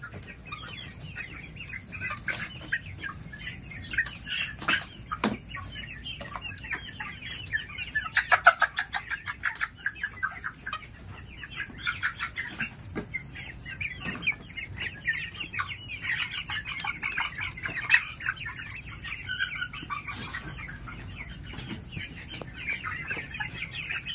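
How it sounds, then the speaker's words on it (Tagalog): Many young chickens on a poultry farm cluck and chirp continuously close by during vaccination, with occasional wing flaps and rustling among the flock. "Kaway-kaway, manok na gagmay."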